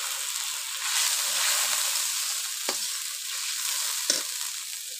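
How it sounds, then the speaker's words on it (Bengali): Masala spice paste sizzles steadily in a pan while shing fish and bean seeds are cooked, with a soft continuous frying hiss and two brief stirring scrapes. "মশলাটা একটু ভাজা হয়েছে, সামান্য জল দিয়ে দিলাম।"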